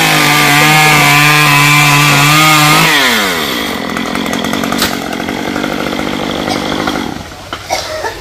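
A chainsaw cuts through a star apple tree branch: a loud, close engine whine holds steady, then drops and bogs as the chain bites into the wood, settling into a rougher cutting drone that fades at the end.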